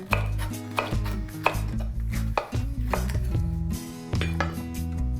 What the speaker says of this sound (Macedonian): Мислам дека можеме да искористиме зелена пиперка да исечеме.